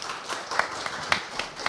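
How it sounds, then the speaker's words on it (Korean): An audience at a Seongbuk district public sharing event claps sparsely, with a handful of sharp, separate hand claps spaced irregularly and fairly faint. "큰 박수 부탁드립니다."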